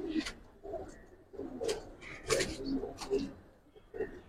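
A red Sapchila pigeon at a loft gives a run of soft, repeated throaty coos in short bursts, fairly faint and close, with a little background noise between calls.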